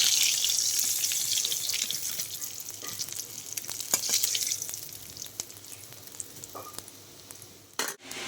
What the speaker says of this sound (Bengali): ওই কড়াইতেই আমি ওই তেলের মধ্যেই সাদা জিরে ফোড়নে দিয়ে দিচ্ছি